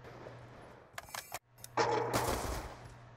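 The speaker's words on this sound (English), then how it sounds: "Shooting through the walls." Gunfire in Black Ops 2 as shots go through walls: a couple of loud bursts of rapid shooting with a short gap, over steady background game noise.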